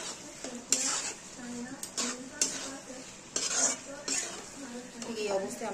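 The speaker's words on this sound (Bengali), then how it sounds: "একটা পাত্রের মধ্যে আমরা ঢেলে নেব।" Cooked shrimp, pumpkin and greens are scraped from a pot into a bowl, with repeated metallic clinks and clattering spoon strokes close by, while a voice talks intermittently underneath.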